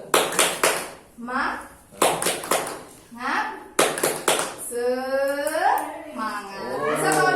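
Group 'tepuk semangat' spirit clapping in a business training session: bursts of rhythmic hand claps alternate with voices chanting and speaking, the claps loud and close in short repeated patterns.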